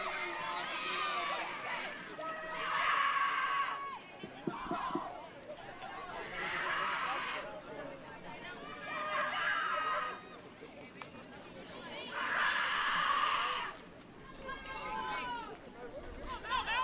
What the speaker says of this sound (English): A lot of noise coming over from the Hawks dugout. A lot of screaming.